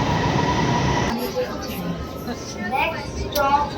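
A metro train pulls into a station at night, its low rumble and rolling wheel noise filling the space, steady and fairly loud, with a faint squeal near the end.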